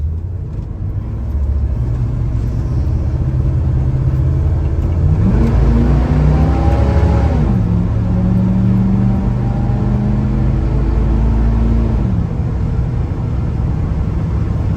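A 1983 Chevrolet K10 pickup truck engine revs up and accelerates, the pitch climbing then settling into a steady drone before easing off, loud and close.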